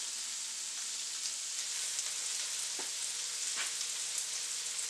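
Frozen peas and beans fry in oil for beef fried rice, a soft, steady, close sizzle hissing evenly throughout, with a couple of faint clicks and no speech.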